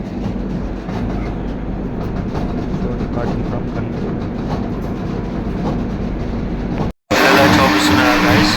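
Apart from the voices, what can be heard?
passenger train running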